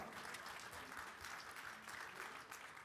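An audience claps for a Rotary club wind orchestra after an opening performance at a district conference in a Seoul hotel ballroom, dense sustained applause throughout.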